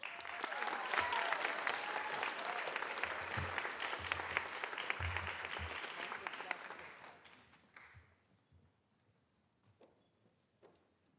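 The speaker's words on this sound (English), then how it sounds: "congratulate them one more time with some applause" Audience applause for high school theater department national qualifiers at a school board meeting, steady dense clapping for about seven seconds before fading out, leaving a few scattered claps.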